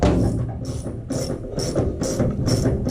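A ratchet tightens the stud hardware on a CiES aircraft fuel sender, close and loud, giving a steady series of quick clicking strokes with short pauses between them.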